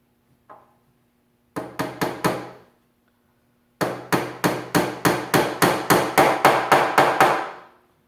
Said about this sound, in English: the other tool I highly recommend is a tack hammer